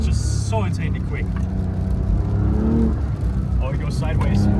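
A Porsche 992 Dakar drives hard through deep snow, its engine droning loudly and steadily from inside the car while people talk over it.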